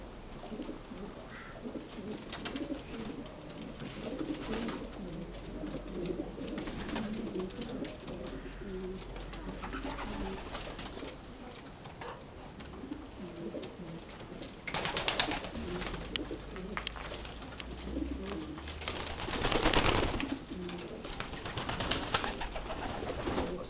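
Racing pigeons coo continuously inside a loft, many overlapping soft calls with occasional wing flutters and louder bursts, close and steady throughout.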